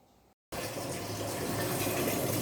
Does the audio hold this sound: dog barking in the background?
no